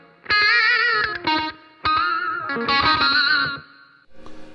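Peavey Rage 258 EFX guitar amp playing loud, distorted guitar phrases through its onboard delay effect, the notes repeating and smearing with chorus-like shimmer before a short, quieter tail of echoes.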